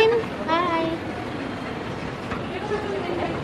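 A small ride-on train moves through an indoor shopping mall with a steady rolling rumble, under children's and adults' voices and the busy chatter of the mall.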